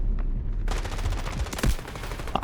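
Automatic rifle fire from a K416 in a Delta Force team deathmatch, rapid bursts beginning after a brief lull, loud and close with sharp shot transients throughout.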